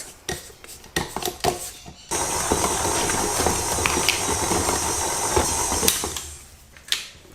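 Shortbread dough being mixed by machine, a few spatula clinks against a bowl first, then a steady mechanical whir with rhythmic knocking, loud and close, ending with more scraping.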